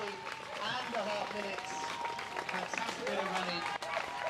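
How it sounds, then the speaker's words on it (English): Crowd noise at the finish of a 5K road race in Cardiff, a continuous roar of cheering and applause held steady throughout, with busy voices mixed in. "You can hear the crowd."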